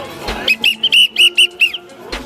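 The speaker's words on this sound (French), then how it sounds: "un coup de sifflet comme ça," A whistle at an outdoor barbecue fundraiser gives a quick run of about six short, shrill blasts in an uneven rhythm, clear and fairly close over a low background murmur.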